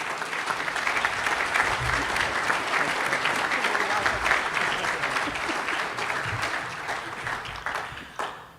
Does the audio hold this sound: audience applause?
yes